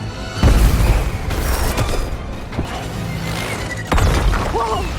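A loud booming blast of a helicopter exploding in a superhero film, with crashing, shattering debris and mechanical rumbling, followed by a second heavy impact, dense and cinematic.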